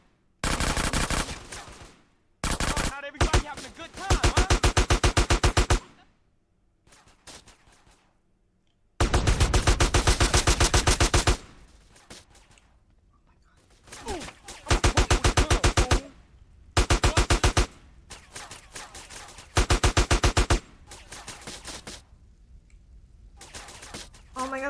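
Long automatic gunfire bursts in Grand Theft Auto: San Andreas, loud rapid-fire volleys lasting several seconds each, separated by short quiet gaps and a few isolated shots, close and dominant.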